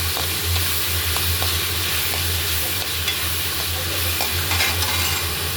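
Vegetables with a little salt sautéing in a pan for Maggi noodles, a steady loud sizzle with scraping stirs throughout, close and continuous, no voices.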